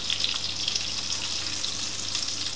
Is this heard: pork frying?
yes